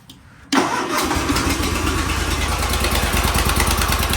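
A zero turn mower engine starting after a short crank, then settling into a loud, steady, throbbing idle close by with a rough exhaust note.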